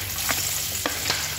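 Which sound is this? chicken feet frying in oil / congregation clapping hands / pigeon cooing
chicken feet frying in oil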